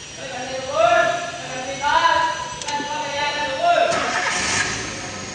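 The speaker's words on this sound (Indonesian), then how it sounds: "hidupkan mesin mobil." A car engine cranks and turns over nearby during a periodic service check on a lift, with a few rising whirring attempts before catching, while a person speaks over it.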